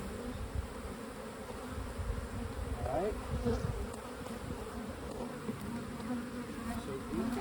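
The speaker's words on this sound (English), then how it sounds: "I'm going to try to shake some bees off into here." A dense, steady buzz of many bees close by as they are shaken off a hive frame during an inspection, continuing throughout, with a brief quiet spoken remark near the end.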